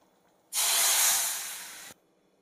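Spices and asafoetida hit hot oil for chole and sizzle at once in a loud, bright hiss that lasts about a second and a half, fading slightly before cutting off. No voices are heard.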